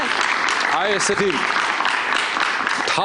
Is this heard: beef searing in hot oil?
no